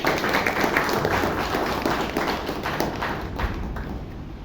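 Audience applause at a Bangalore Toastmasters club induction ceremony: many hands clapping close and loud in a dense, rapid patter that tapers slightly toward the end.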